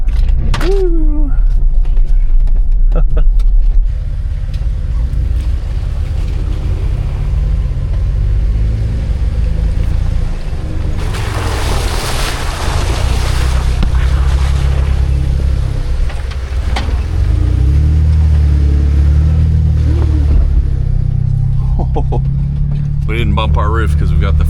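A Jeep with a fastback top drives an off-road trail around trees and under a fallen tree, engine rumbling loud and steady throughout, with brief revving, a whoop and occasional knocks from the vehicle body.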